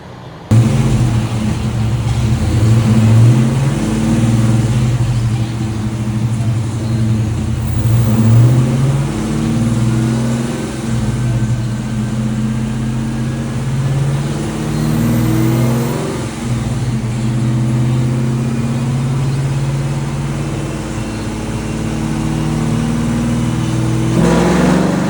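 A Dodge Challenger R/T 5.7 Hemi V8 roars under load on a dyno, climbing through the revs toward 6,600 rpm in a sustained pull, then easing off, loud and close with a deep throbbing tone.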